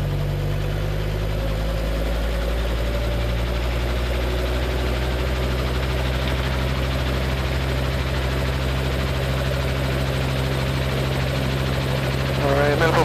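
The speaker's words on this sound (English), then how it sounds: "clutch lights out, warm engine up" A Robinson R22 helicopter's engine warms up with the clutch engaged, giving a loud, steady droning hum with a rhythmic rotor throb that is close and continuous, and talk runs faintly over it.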